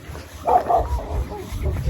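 A dog barks a couple of times close by, short sharp yelps over low background rumble, with faint voices around.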